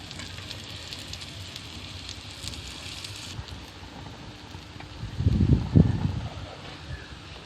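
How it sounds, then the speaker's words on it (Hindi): Potato kachalu tikki shallow-fry in oil in a pan with a steady, soft sizzle throughout; a louder burst of crackle and clatter comes near the end, and no one speaks. "मैं इसे शैलो फ्राई करता हूँ।"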